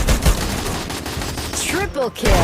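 Rapid automatic gunfire crackles in the Free Fire battle game, dense close bursts with short pauses, under excited speech.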